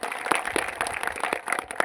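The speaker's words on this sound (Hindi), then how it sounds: "तो एक बार इनके लिए ताली जरूर बजाइए" An audience claps for village watchmen at a gathering: a short burst of scattered, fairly faint applause with individual hand claps standing out.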